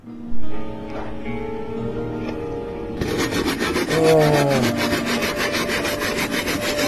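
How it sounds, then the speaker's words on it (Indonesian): An electric saw cutting through wood, starting with softer tonal scraping and then breaking into a loud, rapid, continuous rasping buzz close up, with a short spoken exclamation near the start. "Gergaji listrik, cuy"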